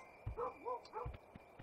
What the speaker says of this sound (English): Where were you barking at? Left or right?